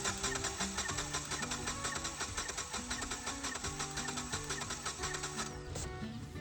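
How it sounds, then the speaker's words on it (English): An engine cranks on the starter during a compression test, a steady, rhythmic chugging that churns evenly for several seconds at low, fairly distant volume, then stops, with no talking. "Probably wanna crank it around 2-3 revolutions, hold the starter for about 5 seconds."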